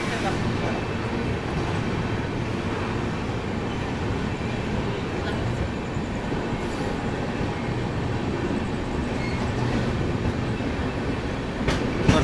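An AC superfast express train rushes through Rampur Junction with a steady, loud rolling rumble and faint clatter of wheels that never lets up.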